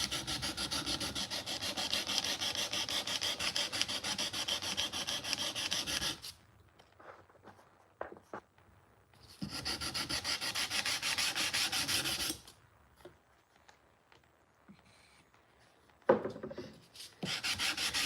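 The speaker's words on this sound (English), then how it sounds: "I'm hand sanding this knife to make it look better so it doesn't have any annoying scratches" Hand sanding a knife blade with sandpaper and cutting fluid, steady close rasping strokes in long bursts broken by quiet pauses, with a few small taps and handling noises between passes.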